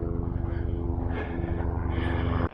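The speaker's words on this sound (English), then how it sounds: "Uh-oh, there's a helicopter looking for me." A helicopter passes over a rocky desert canyon wash, its steady engine drone and rotor hum holding loud and close for the whole stretch before cutting off.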